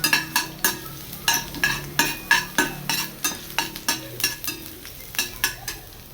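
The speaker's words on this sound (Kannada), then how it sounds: "ಒಂದು ಫ್ರೈ ಪ್ಯಾನ್ ತೊಗೊಂಡು ಅದಕ್ಕೆ ಸ್ವಲ್ಪ ಎಣ್ಣೆ ಹಾಕ್ಕೊಂಡು ಅದಕ್ಕೆ ಸಣ್ಣದಾಗಿ ಕಟ್ ಮಾಡಿರೋಂತಹ ಬೆಳ್ಳುಳ್ಳಿನ" Finely chopped garlic frying in a little oil in a frying pan, with a loud, steady sizzle punctuated by rhythmic scraping clicks of a spatula stirring, close up and without talk.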